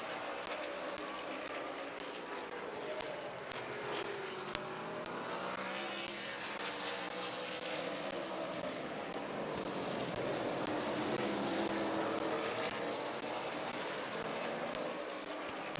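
Race cars roar around Midvale Speedway during the fall classic feature, a continuous distant engine drone rising and falling as the field circles, with occasional sharp ticks and no talk.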